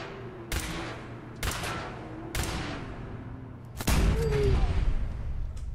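Four sharp gunshots ring out one at a time at uneven intervals during a fight with a gunner in Fallout 4, loud and close, each followed by a short rumbling decay.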